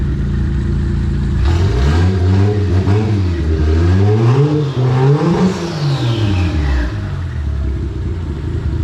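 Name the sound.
Toyota Aristo JZS147 car engine revving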